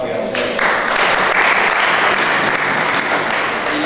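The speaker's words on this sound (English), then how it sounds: "Indeed, you deserve this hand clap for yourselves" An audience at a ceremonial event clapping for themselves, a loud, thick burst of many hands that swells in the first half second and stays steady throughout.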